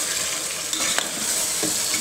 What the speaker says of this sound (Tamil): இப்போ சிக்கனை போட்டுட்டு நல்லா கரட்டி விட்டுருங்க மசாலாவோட.